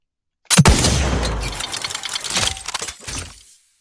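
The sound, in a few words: Outer Worlds 2 video game gun sound without the tail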